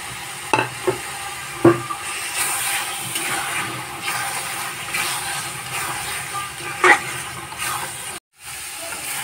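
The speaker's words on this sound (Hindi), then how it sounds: "मसाला अच्छे से भुन गया है तो अब अंडा डाल देती हूँ।" Eggs go into a pan of sizzling masala: a steady frying hiss runs throughout, with a few clinks of stirring near the start and a brief break near the end.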